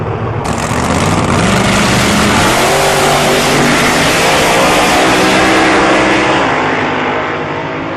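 A race car at Tarlton Raceway accelerates hard past the microphone, a loud, sustained engine roar whose pitch climbs through the gears before easing slightly as it pulls away.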